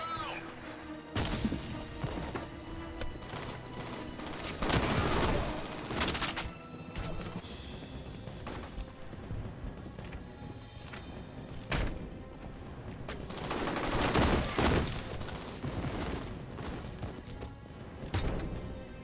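Gunfire in a first-person shooter game bursts out in several heavy volleys, with loud cracks and thuds clustering around the middle and late stretches over a busy game backdrop.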